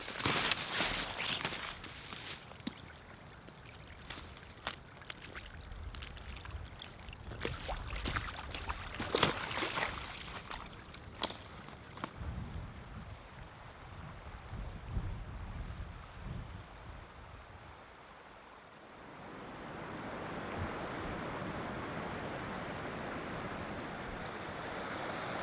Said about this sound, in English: I've got to be getting close to this river.